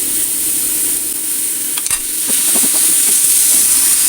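Tomato and yogurt masala frying for prawn biryani, a loud continuous sizzle with a few stirring scrapes partway through, close by and without speech.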